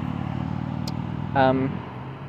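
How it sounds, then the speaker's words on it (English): A motorcycle passes outdoors, its engine rising briefly into a louder mid-pitched drone and fading over about a second, heard through steady background noise. "sorry about the motorcycle, if you can hear that"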